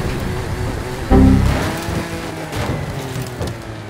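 A 1982 DeLorean's engine revs in the racing game Forza Horizon 5, rising in a sudden loud surge about a second in, then settling into a steady drone with lighter swells.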